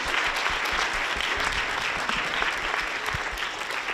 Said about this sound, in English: can we give a round of applause to Tugar?